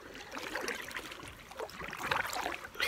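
A canoe paddle dips into lake water, with soft splashes and gurgling trickles close by in uneven strokes, no talking.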